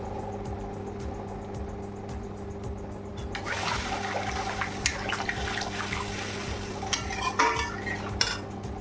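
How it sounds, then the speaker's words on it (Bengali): Water poured into a pan of sautéed fish curry masala, with sizzling and bubbling after about three seconds over a steady low hum, plus a few brief clinks. "আমি এতে আর একটু জল দিলাম।"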